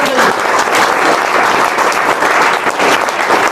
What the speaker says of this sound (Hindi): एक बार इनके लिए भी तालियां बहुत तालियां चाहिए।